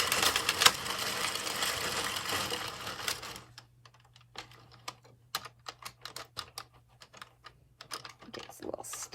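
A hand-cranked knitting machine clatters through its final rounds while casting off, a dense continuous mechanical rattle for about three seconds, then sparse irregular clicks and ticks over a low steady hum.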